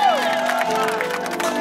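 Party audience at a 90th birthday celebration cheering and clapping, a dense continuous crowd roar with music-like tones and voices mixed in, steady and loud throughout.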